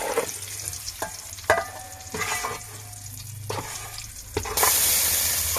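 Egg fries in a pan and is stirred until browned, with a close sizzle broken by repeated scraping and clacking strokes of a spatula, and a louder hiss near the end.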